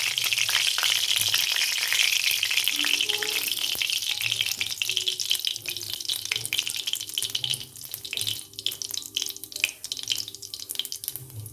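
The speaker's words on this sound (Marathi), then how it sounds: "एक चमचा जिरे ॲड करणार आहोत" Cumin seeds crackling in two spoons of hot oil in a heated kadhai, a dense close sizzle that gradually thins and quiets toward the end, with no voices.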